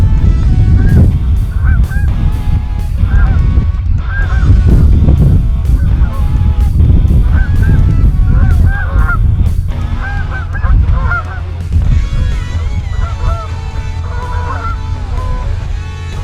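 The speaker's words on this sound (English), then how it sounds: "We got geese behind us on this pond here" Many geese honk loudly and repeatedly on a small pond during a morning goose hunt, a dense, overlapping chorus of calls with a steady low rumble beneath, no talking.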